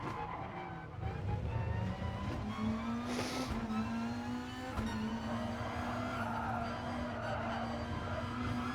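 In-car engine of a Beetle race car at Laguna Seca during the Nations Cup, a loud, steady drone that holds an even pitch and shifts slightly as the car moves through the gears.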